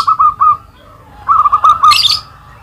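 Zebra dove (perkutut) calling close and clear, repeated rhythmic cooing notes in two bursts separated by a pause, with a brief higher chirp near the end.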